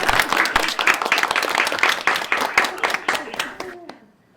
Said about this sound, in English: Bravo. Clap, clap, clap.